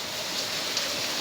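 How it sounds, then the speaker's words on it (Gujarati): Steady rain falling in Surendranagar, a dense, even hiss that stays close and continuous for the whole moment, with no voices over it. "વરસાદ"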